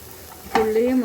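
Onions sizzle as they sauté in a pan for a spicy capsicum dish, a brief burst of frying that starts sharply after a quiet moment and keeps crackling close by.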